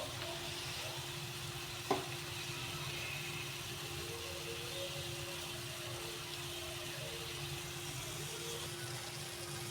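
Paneer tikka roasts in a pan, giving a steady, even sizzle from start to finish with one brief clack near the start and no talking.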